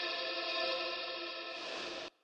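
A noise layer from a cinematic sample instrument is sent through a tempo-synced delay, producing a steady, bright, shimmering tone with echoing harmonics that holds for about two seconds and then cuts off into a faint tail.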